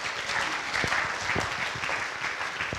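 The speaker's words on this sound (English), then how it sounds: "Let's give him a round of applause." Audience applause for a guest at a musical stage event, a dense, even round of clapping from a crowd that carries on steadily throughout.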